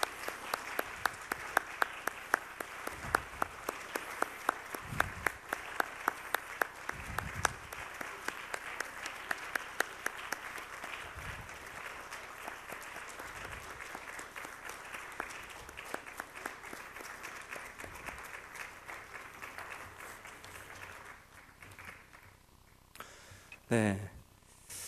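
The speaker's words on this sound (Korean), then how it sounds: "하나님께 영광의 박수 돌리겠습니다" A church congregation applauds together during a Wednesday worship service, a steady broadband wash of clapping filling the room for most of the stretch before fading out, with a speaking voice over it.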